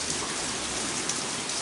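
Heavy downpour of rain falling outdoors where raccoons shelter, a dense continuous hiss of drops hitting surfaces, steady and close with no voices.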